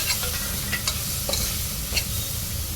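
Grated coconut and green chillies frying and being stirred in a pan, a steady close sizzle with brief scraping stirs throughout.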